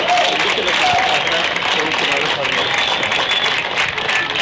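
Audience applause fills the closing of a Tecámac–Papantla cultural exchange event, a dense, continuous clapping from a crowd that stays loud and even throughout, with a voice speaking over it.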